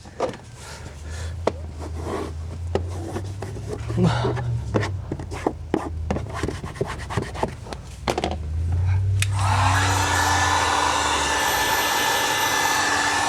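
A heat gun post-heats vinyl wrap on an FJ Cruiser door skin. After several seconds of scattered sharp taps and handling noises, the gun switches on with a steady, close blowing roar that continues to the end.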